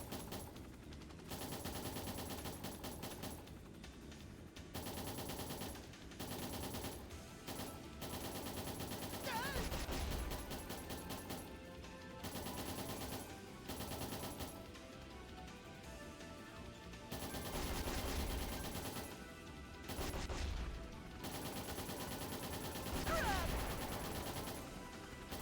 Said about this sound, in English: shooting in burst does not really help, though.